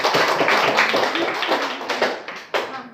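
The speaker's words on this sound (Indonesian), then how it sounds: "ya, tepuk tangan dulu." A small group in a classroom claps after a group presentation, a dense patter of hand claps that rises and then thins out toward the end.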